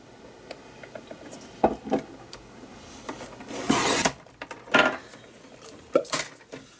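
A paper trimmer cuts excess card during watercolour card making, heard as a series of short scraping, rasping strokes, some of them longer and louder, close up with no talk.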